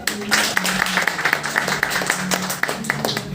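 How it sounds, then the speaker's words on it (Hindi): An audience at a motivational talk breaks into clapping, a steady wash of many hands with sharper individual claps on top, close and fairly loud, with a faint voice underneath. "ताली दीजिए एक बार"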